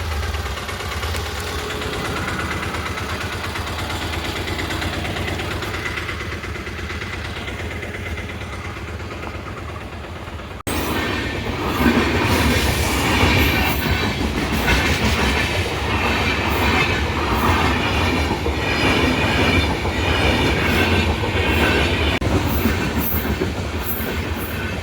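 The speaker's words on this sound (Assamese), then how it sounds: "ৰেল আহি আছে ৰেল লাইন বন্ধ কৰি দিছে" A train rolls through a closed level crossing near Nalbari in Assam, starting as a steady low engine rumble, then after about ten seconds turning into a louder, nearby roar of wagons with rhythmic wheel clatter that runs to the end.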